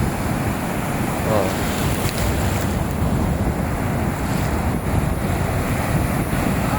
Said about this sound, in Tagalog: Walang tigil yung alon dito,